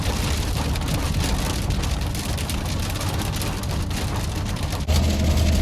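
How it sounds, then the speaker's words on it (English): A rainstorm lashes down while hunters camp in a truck on a whitetail bow hunt: a loud, constant wash of rain hammering on the vehicle, with a slight shift in tone near the end. "the rain was supposed to hold off until tonight after dark"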